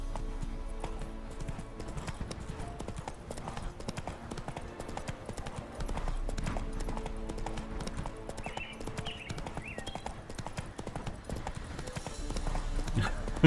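Horse hooves gallop in The Witcher 3 on PC, a steady rapid clip-clop beat that runs continuously and close, with faint game ambience underneath.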